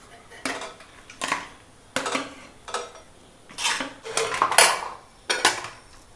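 Rice being layered into a pot over chicken pieces for a Malayalam-style chicken biryani, with repeated clinking and scraping of a metal spoon against the pot in several separate close bursts.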